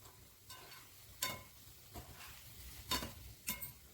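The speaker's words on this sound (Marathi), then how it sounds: "मस्त आपले गुलाबजाम तळत आले" Homemade khoya gulab jamun frying in oil, a quiet sizzle broken by a few soft scraping stirs of a spoon, no voices.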